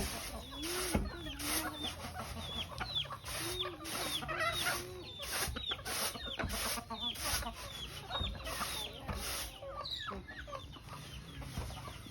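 Chickens in a Lao mountain-valley village cluck and squawk repeatedly at close range, with at least one rooster calling. Calls overlap in a busy, irregular stream alongside other farmyard birds, and faint voices are heard in the background.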